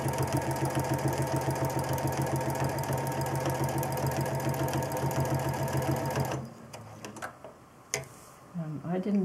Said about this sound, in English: I'm going to stitch around the edge of the template